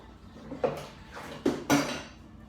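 A ceramic dish set down with a few hard clinks and a scrape as it settles into the kitchen sink to soak while a pizza is assembled, several distinct knocks close by and no talk.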